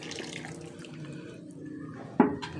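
Water drains out of a genset fuel tank, trickling and splashing faintly and steadily with a brief louder splash near the end.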